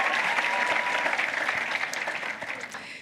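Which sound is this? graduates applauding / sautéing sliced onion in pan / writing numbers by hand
graduates applauding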